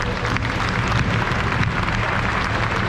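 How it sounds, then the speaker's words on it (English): Steady, dense applause from an indoor audience honoring classic car show category winners, a continuous wash of clapping at close range with no pauses. "keep the round of applause going for Dave Wood, Stephen Hill and Jeff Mitchell and Colin"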